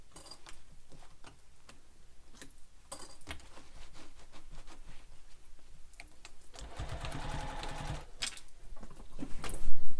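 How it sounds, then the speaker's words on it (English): A sewing machine stitches a backpack seam in quick rhythmic bursts of ticking needle strokes with short pauses between them, then a louder, denser run of stitching toward the end. "So now we're going to sew this using the seam allowance given in the pattern."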